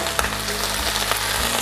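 A handful of coriander leaves sizzles in a hot pan while wilting for a chicken biryani paste, giving a steady close frying hiss with a few soft stirring knocks.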